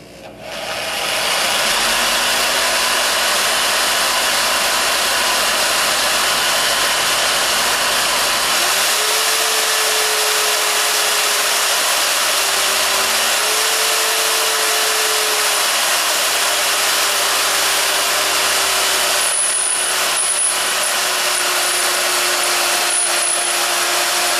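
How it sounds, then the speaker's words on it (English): A power drill runs continuously at close range, its whine shifting in pitch as it bites into steel, with brief pauses near the end. "Let's see if we can finish drilling the steel on this upper end"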